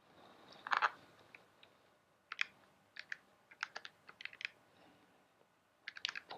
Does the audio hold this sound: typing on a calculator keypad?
yes